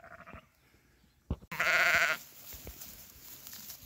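A Dorper sheep lets out one loud bleat close by after a few quiet rustles, followed by a softer background murmur.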